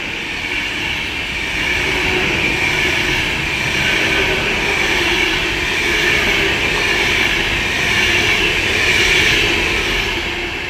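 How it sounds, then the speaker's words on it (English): A Class 390 electric passenger train rolls past close by at Watford Junction on the West Coast Main Line, a loud sustained rumble and whine with a steady high tone, with no talking. "here's the Avanti West Coast service from Glasgow Central to London Euston, 390-104"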